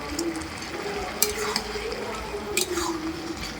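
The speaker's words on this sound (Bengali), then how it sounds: "দিয়ে ভালো করে নাড়াচাড়া করে নেব" Soaked raisins and cashews stirred into a bubbling papaya jelly chutney with sugar make a gentle sizzle and syrupy bubbling, while a spoon scrapes and taps against the pan a couple of times.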